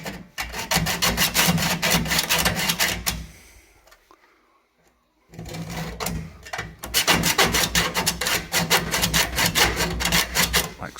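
A scribe scratching a line along a cardboard template on a car's rear quarter panel during bodywork, heard as loud, close, rapid rasping strokes that stop briefly midway and then resume.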